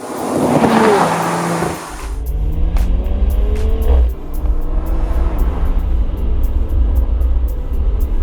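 A 2019 BMW Z4 Roadster's engine revs up and shifts through gears, then settles into a steady drone with wind noise as it cruises top-down along a winding road.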